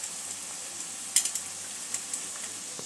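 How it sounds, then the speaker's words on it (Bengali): Onion and spices fry in a pan over medium-low flame for a paneer dish, a soft steady sizzle broken by a few sharp spoon clinks and stirring taps, no talking. "যাতে সমস্ত উপকরণগুলো ভালো করে ভাজা হয়ে যায়।"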